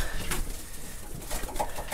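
Pigeons coo softly in a breeding loft during extreme cold, low throaty repeated coos overlapping close by with faint rustling, no talking.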